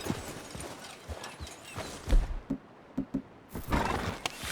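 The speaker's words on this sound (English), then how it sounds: "Get out of here, horse." Horse hooves clip-clopping in Red Dead Redemption 2, a steady trotting patter with a few sharper hoof knocks and a brief whinny-like burst, close and fairly loud with no talk over it.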